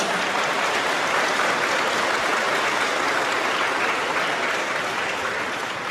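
Dense, steady applause from a church audience welcoming someone forward to ask a question, a continuous wash of many hands clapping at even loudness throughout, with no talk over it.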